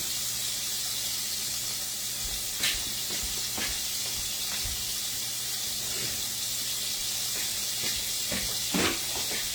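Food deep frying in hot oil gives a steady, low sizzle that runs throughout, with a few brief louder crackles and pops now and then; there is no talking.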